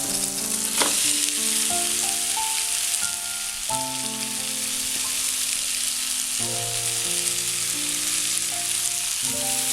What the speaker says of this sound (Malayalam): ഇനി ഇതിലേക്ക് നമ്മൾ മാരിനേറ്റ് ചെയ്ത് വെച്ചേക്കുന്ന ചിക്കൻ ചേർക്കാം.